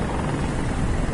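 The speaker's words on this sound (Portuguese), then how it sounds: "Helicóptero." A helicopter's steady, loud rotor drone in the video game Detroit: Become Human fills the brief moment, dense and constant with no voices.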